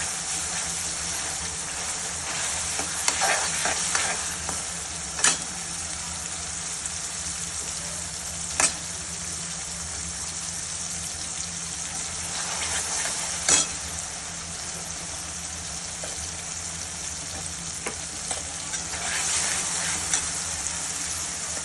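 Brinjal olo (mashed eggplant) with green pigeon peas fries in a pan, giving a steady, quiet sizzle broken by occasional sharp clicks of a stirring spoon.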